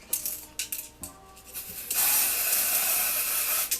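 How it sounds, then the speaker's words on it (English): A styling product is sprayed onto a wig in a steady hiss lasting nearly two seconds, preceded by soft handling clicks and rustles of the bottle and hair. "I like to spray this on here if I want to get it directly to a shade."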